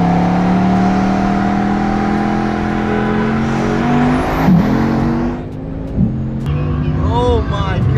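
A Tesla Model S Plaid and a Bugatti Chiron drag racing from a 50 mph roll, the Chiron's engine revving and whining up through its gears, loud and close, with a brief high whir and people talking over it.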